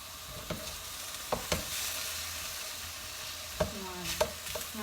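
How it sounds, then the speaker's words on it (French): Salmon fish sizzles in a frying pan as it is turned, a steady close crackle broken by several sharp scraping and clinking taps of the utensil against the pan. "Je vais d'abord tourner mon poisson."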